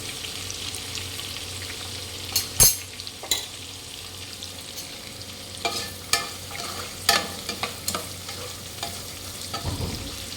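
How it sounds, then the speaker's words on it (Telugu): Onions fry in a pan for a prawn biryani, a low sizzle running throughout while a utensil stirs and scrapes with sharp clinks every second or so, close and with no talk. "ఇప్పుడు ఉల్లిపాయలు వేగినాయి, ఆనియన్స్."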